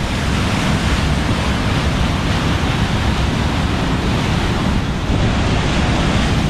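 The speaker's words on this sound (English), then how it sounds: "The water here is pretty fast." Water rushes at Paterson Great Falls in a loud, dense, continuous roar, with wind buffeting the microphone and no voices.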